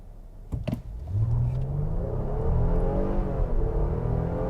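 A 2022 Nissan Pathfinder SUV in sport mode accelerates hard from a standstill, its engine rising from a low rumble into a loud, sustained climbing drone heard close from inside the cabin, with a couple of brief clunks just before launch.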